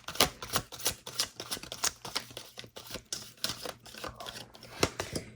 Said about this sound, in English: this deck is shuffling kind of tight